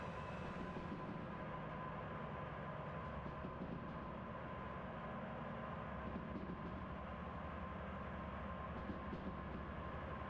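In the Derail Valley train simulator, a heavy freight train picks up speed rolling down a grade, giving a steady, dense rumble of rolling wheels and rail noise that runs unbroken throughout.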